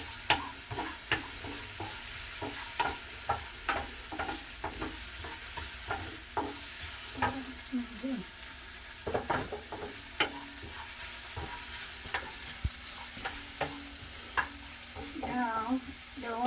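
Red onion caramelizing in a frying pan, a steady low sizzle with repeated scraping stirs throughout, close and moderately loud.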